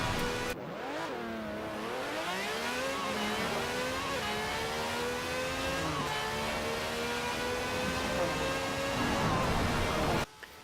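A car with well over 1,000 horsepower accelerates hard in Forza Horizon 4, its loud engine climbing steadily through repeated upshifts over about ten seconds, with no talking.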